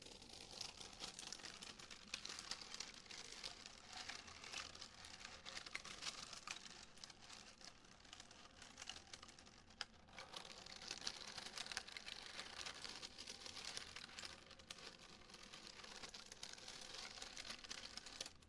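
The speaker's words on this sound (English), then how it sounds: "I made a squishy with the beads a little while back. But if you stretch them out, it almost sounds" A squishy toy filled with beads is stretched near the microphone, giving a steady, close, dense patter of tiny crinkling clicks that resembles light rain, continuing throughout without talk.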